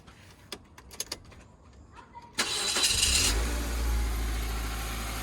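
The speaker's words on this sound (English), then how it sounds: "I will just start up the car to show you guys how it sounds" A few clicks and knocks, then a Mazda Verisa car engine, AC pulley belt removed, cranks and catches, settling into a steady low idle that continues without any squeal.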